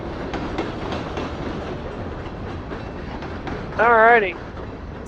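Two trains rolling past a riverside walkway and park with steady rumbling rail noise throughout and a brief tonal horn-like whine near the end, a voice speaking briefly over it.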